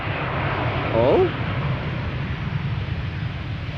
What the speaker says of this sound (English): Sounds like there was ever so slightly reverse thrust being applied there.